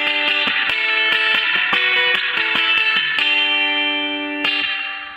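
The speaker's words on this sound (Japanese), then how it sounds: "まさにスプリングリバーブの音って感じですね" Electric guitar played through a BOSS FRV-1 Fender spring reverb pedal, with plucked notes and chords that carry a bright, splashy, drippy spring reverb tail, loud and close with no talking.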